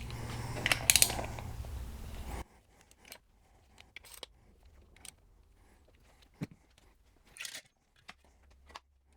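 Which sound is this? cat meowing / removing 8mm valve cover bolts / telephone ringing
removing 8mm valve cover bolts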